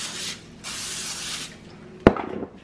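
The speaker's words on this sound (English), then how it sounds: "now we're going to spray some nonstick cooking spray all over this really well" Nonstick cooking spray hisses onto a baking sheet in two close, steady bursts, followed by a sharp knock and brief rattle as the can is set down.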